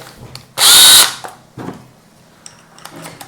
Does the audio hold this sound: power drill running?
yes